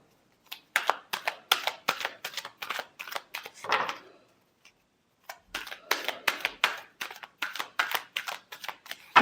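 A deck of tarot cards being shuffled up close, with quick repeated riffling bursts in a steady rhythm, a brief pause, then another run of crisp shuffles. No one talks.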